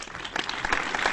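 A short burst of canned applause and cheering, dense and steady for about a second, played as a sound effect during a Star Wars costuming fan podcast.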